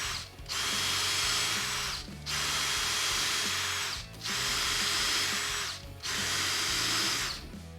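A power drill fitted with a DeWalt countersink accessory bores pilot holes and countersinks, four steady whirring runs of about two seconds each, separated by short pauses, loud and close with no talk.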